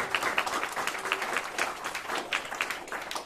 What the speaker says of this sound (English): Let's applaud the District Attorney's Office for their community support